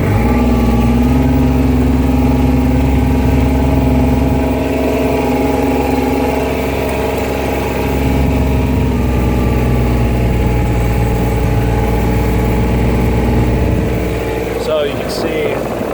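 A vehicle engine droning steadily while driving along a forest road, a loud continuous mid-pitched hum with slight shifts in tone, ending in a brief clatter near the end.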